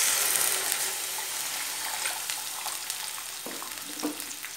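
Water poured onto ash gourd peel pieces frying with mustard seeds sets off a loud sizzling hiss that slowly settles, with a few faint stirring clicks near the end.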